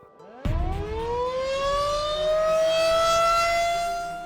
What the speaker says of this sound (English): the sirens went off